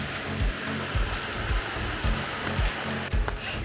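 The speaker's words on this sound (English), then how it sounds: "You see the waterfall there?" Millstream waterfall in North Queensland, a loud, continuous broadband rush of falling water, broken by regular low thumps.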